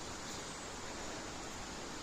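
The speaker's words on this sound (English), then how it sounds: "there's a giant waterfall over there, and it is beautiful" A continuous broadband roar of rushing water from a giant waterfall on a rainy hike, steady and unbroken, with no voices.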